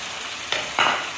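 Finely diced capsicum and green onion frying in a pan, a constant close sizzle broken by two quick scraping stirs that swell the hiss.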